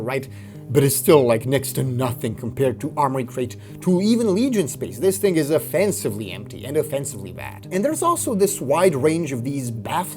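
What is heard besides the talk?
None of the usual background noises is heard.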